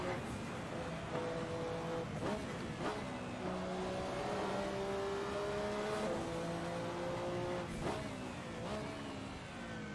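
Porsche race car engine in Assetto Corsa during an online ranked race, revving steadily through a fast section with rising and falling pitch sweeps at each gear change, loud and continuous throughout, with brief talk over it.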